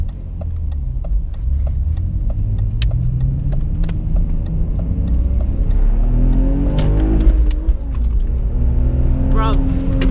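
A BMW E46 straight-six drones loudly from inside the car, its pitch sweeping up and down as it revs, with keys jangling in rapid ticks and voices talking over it.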